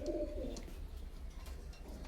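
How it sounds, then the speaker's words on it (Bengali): Pigeons of a flying breed from an Oman bloodline coo faintly and softly at the start, over a low steady background hum. "তো ভিউয়ার্স যে কবুতরগুলো দেখালাম মাশাআল্লাহ অনেক সুন্দর।"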